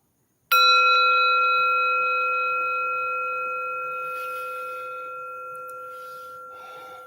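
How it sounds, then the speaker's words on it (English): A meditation bell rings once with a bright, clear strike, and its steady tone decays slowly over several seconds in a quiet room. "I'll go ahead and ring the bell"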